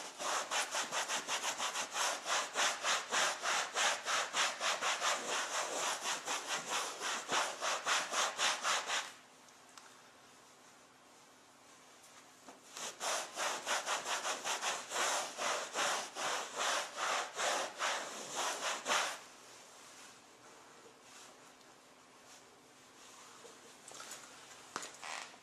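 Dirty leather being scrubbed clean, heard as close, steady back-and-forth rubbing strokes in two long bursts with a quieter gap between and softer strokes near the end.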